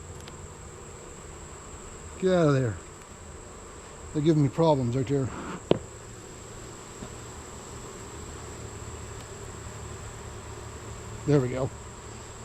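Honey bees buzz through a steady low drone during an August hive inspection, while someone speaks in short bursts close by.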